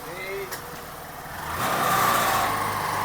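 A car engine runs while the vehicle reverses, a steady mid-pitched hum that swells slightly louder partway through, with voices talking over it.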